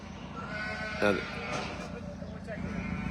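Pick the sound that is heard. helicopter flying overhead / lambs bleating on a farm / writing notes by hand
lambs bleating on a farm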